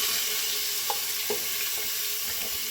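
Chopped onions sizzle steadily in hot oil over low heat, a dense continuous frying hiss with a few soft clicks of stirring, heard close with no talking.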